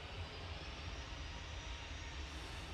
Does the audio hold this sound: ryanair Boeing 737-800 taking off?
yes